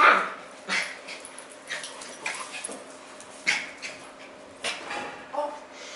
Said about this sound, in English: Vicious dog.